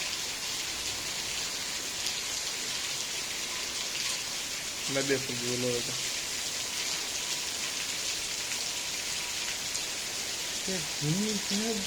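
Steady rain patters and hisses throughout, with a couple of brief voices speaking faintly over it.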